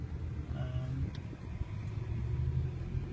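BMW i8 driving along, heard from inside as a steady low road rumble and engine drone with faint tonal whine, continuous and moderately loud, with no talk.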